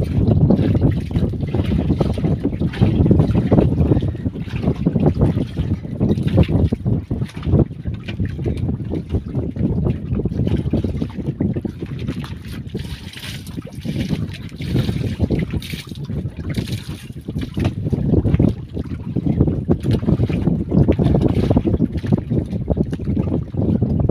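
Strong amihan monsoon wind buffeting a small boat at sea, a loud continuous roar of gusts and wind noise on the microphone with faint water sounds and no clear talk.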